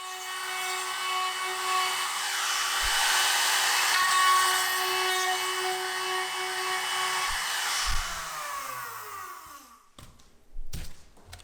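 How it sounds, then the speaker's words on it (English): A loud, high-pitched router trimming wood veneer whines steadily for several seconds, then spins down and stops, leaving a few faint knocks. "use the router to trim the veneer around the edge"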